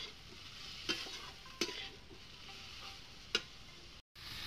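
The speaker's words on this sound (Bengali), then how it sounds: "সব কিছু আমার মশলা ভালোভাবে আমার ভাজা হয়ে গেছে" Spice masala is stirred and fried in a pan with a constant quiet sizzle, and a few sharp spoon taps against the pan ring out. It is close, with no talk.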